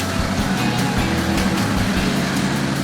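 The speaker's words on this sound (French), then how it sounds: "La chargeuse Volvo L330C, avec son bras long, remplit les camions en quelques passes rapides." Volvo L330C wheel loader working in a quarry, its engine a steady, loud low rumble with a constant throb and no break through the whole stretch.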